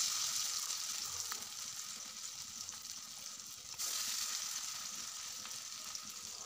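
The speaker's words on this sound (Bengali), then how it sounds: "প্রতিটা বড়া আমি এভাবে ভেজে নিব।" Corn fritters in a rice flour batter fry in hot oil with a steady, dense sizzle that swells slightly midway, continuous and close with no talking.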